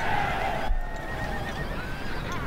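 Horses neigh and whinny over a busy, steady background in the Battle for Middle Earth strategy game, with a rising whinny near the start and a continuous layered din throughout.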